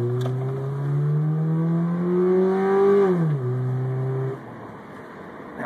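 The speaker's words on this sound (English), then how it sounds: "It sounds like a much bigger engine than it is now." A car engine revs up with a deep, throaty intake note, its pitch climbing steadily, then drops back and settles to a lower idle. Loud and close, no talking.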